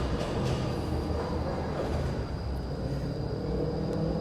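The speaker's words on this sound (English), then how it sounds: "noisy tram." A steady, loud rumble of a tram rolling by, broadband rail noise with a faint high whine throughout.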